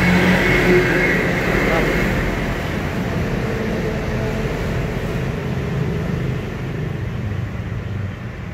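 A Kubota L1-18 four-wheel-drive tractor engine runs at a steady, loud, close rumble throughout, with speech-like murmur mixed in over the continuous drone.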